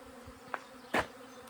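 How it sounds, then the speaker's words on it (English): A steady, dense buzzing of many bees close by, with a couple of louder passes as individual insects fly near. "the workers have to walk through a cloud of bees all the time."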